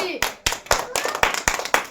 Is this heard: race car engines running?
no